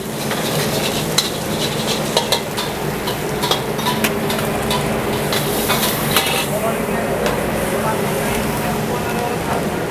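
Nasi goreng kemangi with chicken and fish balls being stir-fried at a busy food stall, a steady sizzle with repeated scraping and clattering of the spatula against the pan, while voices talk in the background throughout.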